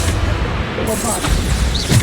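A Bombarda explosion spell cast in Hogwarts Legacy gameplay, a loud, booming blast with a broad crashing roar that fills the short moment.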